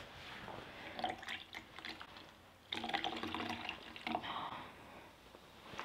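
Mountain Dew spiked lemonade pours and splashes into a cup, a soft trickling gurgle that stops and restarts louder for a second stream, close and fairly quiet.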